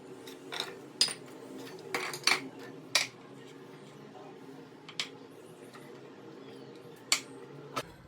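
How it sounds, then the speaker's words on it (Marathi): Vegetables for a vegetable biryani being mixed in a metal pot, a run of scattered clinks and scrapes of a utensil against the pot over quiet room noise, with no speech. "आपल्याला एक भाज्या घ्यायच्यात आणि त्याला सगळ्यांना मिक्स करायचं एका भांड्यामध्ये"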